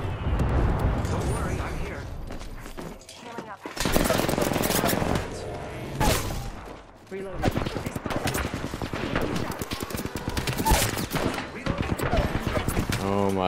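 Rapid video game gunfire crackles in dense bursts, mixing automatic fire with sharp single sniper-style shots and booms, while a player talks excitedly over the battle throughout.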